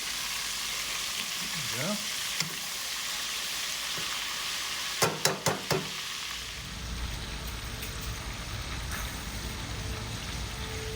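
Chicken frying in a pan with onions, a steady sizzle and crackle throughout, with a few sharp clattering knocks midway and a brief spoken word early on.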